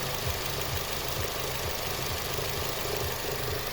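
A vehicle engine idles during an ignition coil test, a steady, dense rumble with a faint knocking pulse that stays even and close throughout.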